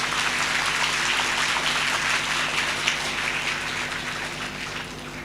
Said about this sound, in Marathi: एकदा जोरदार टाळ्या होऊन जाऊ द्या मित्रांनो